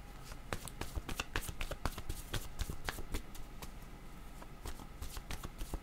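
Tarot word cards being shuffled by hand, a close, steady run of quick papery flicks and riffles that continues throughout with no speech.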